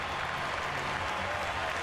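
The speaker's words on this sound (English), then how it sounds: "I think some people are applauding" Fans at a Cubs versus Red Sox baseball game applaud steadily, a dense, even wash of distant clapping filling the ballpark at moderate level with no break.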